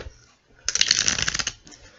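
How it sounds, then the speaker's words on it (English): Tarot cards riffle-shuffled in a quick, crisp burst of flicking and fluttering paper lasting under a second, followed by a softer brief ruffle, close and clear. "I'm going to shuffle the cards with your energies in mind"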